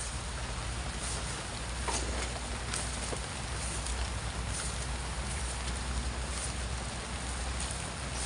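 Rain falls steadily outdoors at night, a constant broadband hiss with a few faint scattered clicks and knocks, moderately quiet and unbroken, with no talking.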